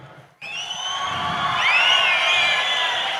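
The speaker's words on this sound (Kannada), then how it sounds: "ಅಂತ ರೈತರಿಗೆ ಒಂದು ಜೋರು ಚಪ್ಪಾಳೆ ಕೊಡ್ರೋಣ." A loud crowd at a public event cheers and whoops for farmers, a sudden roar of voices and whistling that starts abruptly and holds steady to the end.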